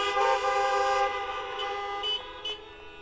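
Car horn honking with a sustained buzzing tone that cuts off and returns in a couple of shorter toots, fairly loud and close with traffic noise beneath.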